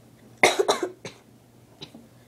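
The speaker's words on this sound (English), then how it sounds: "my cough is still kind of with me" A person coughs in a quick cluster of three or four close coughs, then gives one faint cough after a short pause.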